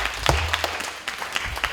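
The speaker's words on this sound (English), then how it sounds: "Give yourselves a round of applause." Seminar audience at a beauty pageant training session breaks into applause, a brief burst of scattered claps with a few sharper hits, fairly close and steady throughout.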